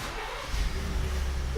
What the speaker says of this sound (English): Let's restart the car.